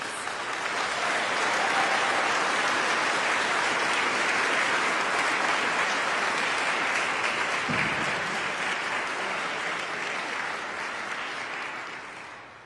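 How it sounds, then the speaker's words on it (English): A nursing pinning ceremony audience claps in sustained, dense applause that holds steady for many seconds, filling the hall before slowly tapering off. "Let's also give a round of applause to these dedicated recipients"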